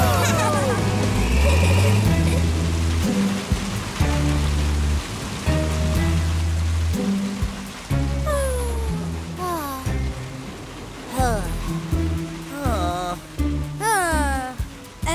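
Cartoon rain falls in a steady hiss beneath animated voices and music, with characters talking over the constant downpour.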